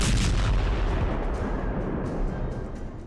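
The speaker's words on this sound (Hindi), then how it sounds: "जोरदार धमाका हुआ" A loud, heavy boom bursts out at once and rolls away into a long rumbling decay, with a few faint distant cracks trailing behind.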